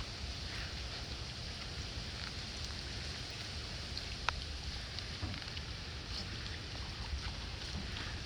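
Rain falling on a swimming pool and its surroundings during a typhoon in the Philippines, a steady broad hiss with faint scattered drops and one brief sharp tick, constant and without voices.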